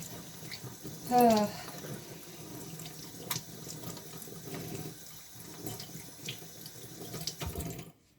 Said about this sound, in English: So let's wash our hands. I'm washing our hands.